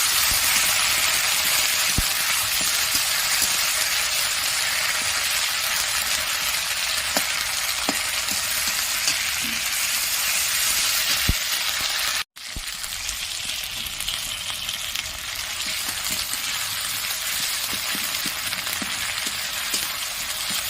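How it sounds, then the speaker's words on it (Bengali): Chopped tomato fries with ginger paste in a pan for a Bengali rohu fish curry, giving a loud, continuous sizzle with faint scattered crackles and a brief stir-like break midway. "আর দিয়ে দেবো এর সাথে টমেটো কুচি। একটু ভালো করে কষিয়ে নেব।"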